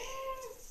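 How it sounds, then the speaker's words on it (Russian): A domestic cat gives one loud, drawn-out meow, close and clear against a quiet room, with no talking. "Кошка орет"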